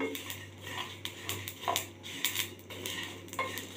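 Spices being dry-roasted in a pan for a carrot and lemon pickle, with repeated light metallic scrapes and clinks of a utensil against the pan over a steady low hum, close and moderately quiet.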